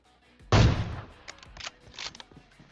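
A single loud, close AWM sniper rifle shot in PUBG Mobile cracks out sharply and rings away, followed by a few softer bursts of in-game sound.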